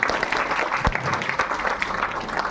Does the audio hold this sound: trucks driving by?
no